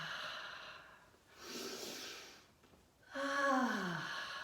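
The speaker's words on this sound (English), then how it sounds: "So we're going to take some deep breaths in." Deep in-and-out breaths during a laughter yoga exercise, with two broad airy inhalations or exhalations followed by a louder, voiced breath that slides downward at the end, close and clear with no speech.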